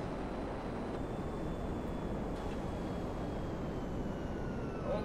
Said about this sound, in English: Alright, we've got a chopper coming in as well.